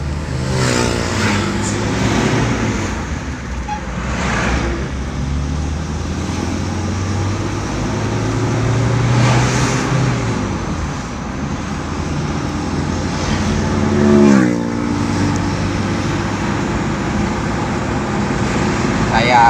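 Car engine and road noise as the car accelerates along a straight road toward 80 km/h, a steady broadband drone with engine tones climbing in pitch, loud and close, with someone talking over it.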